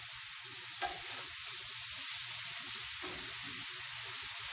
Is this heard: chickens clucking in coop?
no